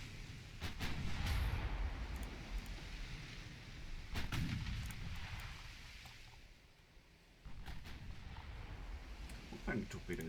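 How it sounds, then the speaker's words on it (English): Heavy cruiser taking a maximum-damage 24-inch torpedo hit in the naval game Ultimate Admiral Dreadnoughts, with several booming low impacts and blasts in a rumbling battle mix, fairly faint overall. "So that was a max damage torpedo hit that we took."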